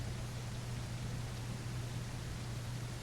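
Steady rain in The Isle Evrima, a soft even hiss of falling water with a low hum underneath, continuous and fairly faint with no voices.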